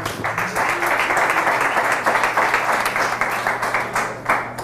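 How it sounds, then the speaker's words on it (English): Sustained applause from an audience, thick rapid clapping with a low steady hum underneath, continuing throughout. "Let's give him a round of applause."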